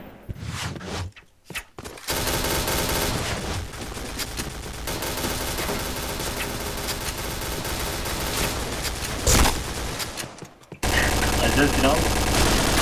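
Rapid automatic gunfire in the video game Point Blank rattles almost continuously in dense bursts, loud and close, with brief pauses and players talking over it.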